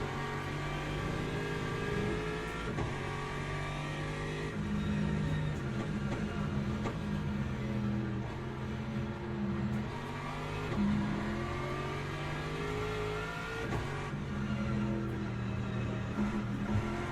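Race cars lap Spa-Francorchamps during a WEC endurance race, a steady engine drone of revving and shifting that carries on continuously at moderate distance with no talk over it.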